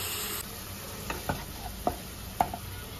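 Spice paste with a splash of water and salt is stirred and fried in a pan for an egg and teasel gourd dish, a low sizzle broken by four or five sharp spatula knocks and scrapes close by.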